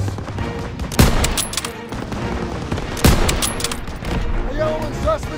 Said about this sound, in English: They're pinning our boys! Hit the turret! Stay on Zussman! Fire on the MGs!